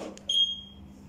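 A Fiido electric scooter's alarm lets out one short, high-pitched electronic beep close by, ringing briefly before fading over faint background hum.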